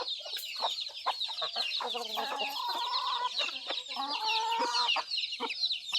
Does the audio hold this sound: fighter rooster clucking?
yes